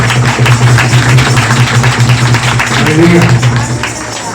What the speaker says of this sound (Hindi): जोर से तालियों के साथ तारीफ करेंगे, जितनी तेज आपकी तालियां हैं।